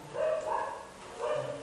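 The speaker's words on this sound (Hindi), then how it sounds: "कुत्ता।" A dog barks a couple of times somewhere off at a distance, muffled and moderately loud against a faint background hum.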